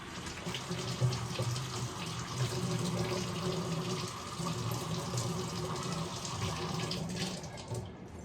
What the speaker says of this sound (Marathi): आता मी नॉर्मल टॅप वॉटरने चेहरा क्लीन करून घेते